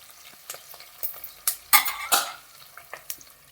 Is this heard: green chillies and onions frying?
yes